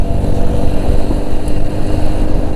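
A motorcycle rumbles loudly along a mountain road strewn with loose gravel chips, its engine drone steady and close with a rough, crunchy undertone from the tyres slipping.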